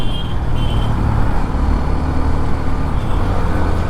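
A Hero Xtreme 125 motorcycle hums at a steady pace while being ridden, with loud, close engine and road noise throughout and a faint rise in pitch as a gear is shifted. No one speaks.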